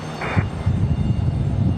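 Alaska Airlines Boeing 737-900 jet at Raleigh-Durham International Airport, a steady low engine rumble held throughout with a brief brighter whine near the start, moderately loud and fairly distant.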